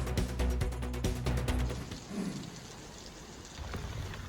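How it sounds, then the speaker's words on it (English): Wind and rain during a storm sweeping across the Erie region, a steady broadband wash of falling rain with gusty rumble, louder and busier at first before easing to a softer, continuous patter. "here's a look at some of the wind and rain from across our region"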